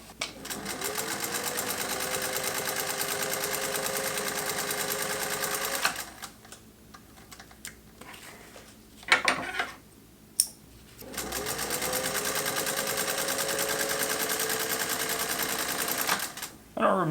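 A Singer 201-2 sewing machine stitching in two bursts of fast, even needle clatter, each lasting several seconds, with a quiet pause and a few handling knocks between them.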